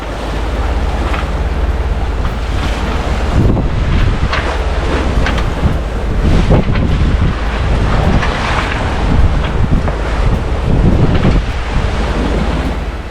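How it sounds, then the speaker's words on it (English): Strong wind roars across a sailboat crossing the Indian Ocean, loud and unbroken, with gusty buffeting on the microphone and the wash of waves and surf around the hull. "the wind's finally come in"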